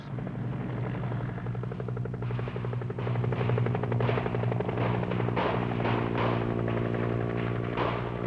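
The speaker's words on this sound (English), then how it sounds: "another UH-1 landed outside of the 301st Wing headquarters" UH-1 helicopter setting down on an airfield, rotor blades beating in a loud, steady thump with a low engine drone underneath, close by and dominating throughout.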